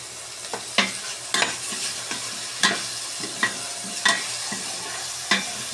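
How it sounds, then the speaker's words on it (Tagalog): Okra sautéing in a pan for a salmon and miso dish: a soft background sizzle broken by repeated sharp scrapes and clacks of a utensil at irregular intervals, close up and with no voices. "Gigisa ko na lang din po yung okra."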